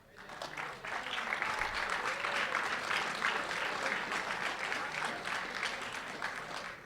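Audience at a golf rules seminar in a high school facility breaks into steady applause to welcome a Met PGA speaker, many hands clapping in a dense, even patter that holds for several seconds.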